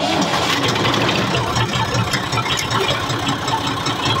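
Tractor engine running on a farm, a loud, steady, rumbling drone held continuously close by, with a faint voice barely audible underneath.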